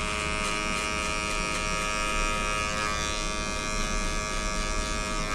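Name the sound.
electric hair clipper cutting a fade at zero guard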